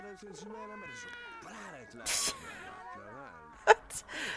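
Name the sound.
cats fighting in video game The Sims 1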